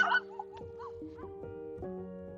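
A dog gives short yips and whimpering barks over a faint steady hum, several quick bursts close by.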